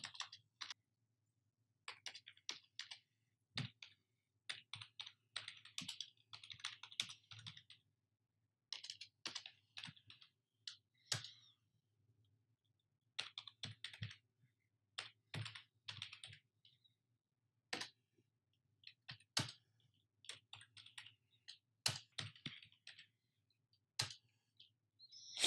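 Someone types on a computer keyboard while filling in an Excel spreadsheet, with quiet bursts of rapid key clicks separated by pauses, close-up and soft against a low steady hum.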